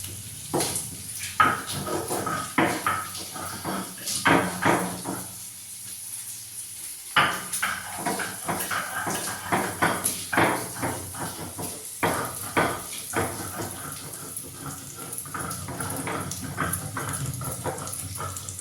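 Spices ground by hand on a shil-nora grinding stone make repeated scraping strokes and knocks in an uneven rhythm, close and fairly loud, with a short pause partway through and no speech.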